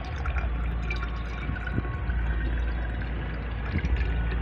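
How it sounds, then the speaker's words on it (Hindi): Liquid fertilizer is strained into a container of plain water, giving a steady pouring and trickling wash with a few drips, fairly close and continuous with no talk. "मैंने ये 5 गुना सादा पानी ले लिया है और इसमें ही मैं इस फर्टिलाइज़र को छानने वाली हूँ"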